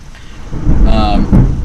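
Rain and thunder from a storm outside, with loud, heavy rumbling bursts over a steady wash of rainfall, close and dominant with no voices.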